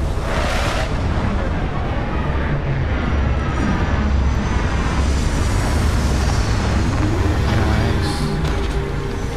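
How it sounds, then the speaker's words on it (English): A spaceship setting down on a planet in the video game Starfield gives a loud, continuous engine roar and rumble that fills the whole stretch without letup. "Landing site looks clean. Let's set it down."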